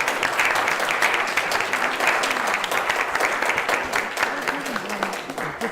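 An audience at a Unitarian church service claps for volunteers. The applause is dense and sustained, close and loud, and a voice speaks now and then underneath it.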